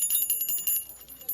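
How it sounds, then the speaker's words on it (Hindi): A small brass puja bell rings with rapid, bright repeated strikes, close and moderately loud, over a faint background. "घंटी,"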